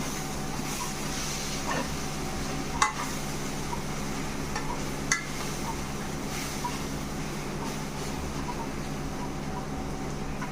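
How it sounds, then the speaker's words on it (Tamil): Spoon stirring turmeric and chilli powder into a pot of mung dal curry for pacha parupu vadacurry, a steady soft scraping and sizzling with two sharp clinks of the spoon against the pot, no talking. "ஃபஸ்ட்டு இதெல்லாம் மிக்ஸ் பண்ணி விடணும்."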